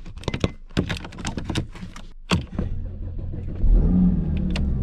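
A car engine being started in winter after sitting unused, with a few clicks and thunks followed by the engine cranking and catching into a steady low idle.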